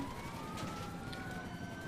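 A police car siren in GTA V whines faintly as a slowly rising tone over the constant rumble of driving, brief and somewhat distant.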